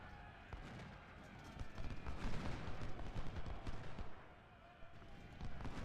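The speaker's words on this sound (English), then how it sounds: "Nice little volley there from him." A musket volley rolls out at the Battle of Gaines' Mill in the game Ultimate General: Civil War, a faint, dense crackle of many shots clustered together over a quiet battlefield background.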